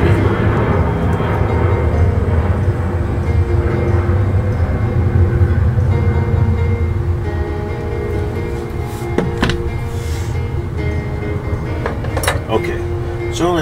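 Aircraft passing overhead during a tabletop scale model build, a steady loud broadband rumble filling the whole stretch and fading slightly toward the end, with a few faint clicks from the workbench.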